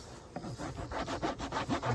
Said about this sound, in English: I'm gonna rub some of this wax on there.